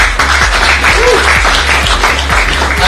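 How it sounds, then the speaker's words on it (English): Audience applause at a business awards ceremony in Goa, a steady wash of clapping from a large crowd, continuous and fairly loud throughout with faint voices beneath. "Ladies and gentlemen, they do deserve a good round of applause."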